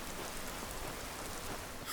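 Steady rain in the video game Oblivion with the TPOS2 mod, a continuous dense hiss of falling drops pattering on surfaces, even and unbroken throughout with no voices.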